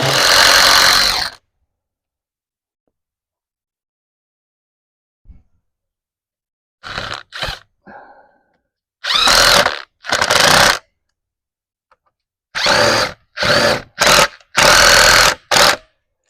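A power drill drives screws into wood for a raised garden bed, with loud, close whirring bursts: one long run at the start, then a series of short bursts separated by pauses, and brief rustles between them.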